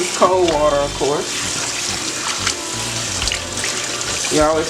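Cold tap water streams steadily from a kitchen faucet over raw chicken in a bowl while baking chicken, a continuous close splashing wash with a voice talking over parts of it.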